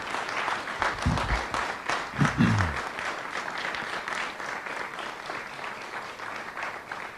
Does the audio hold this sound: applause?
yes